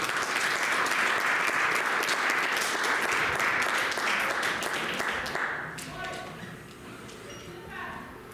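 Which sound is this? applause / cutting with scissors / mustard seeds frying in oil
applause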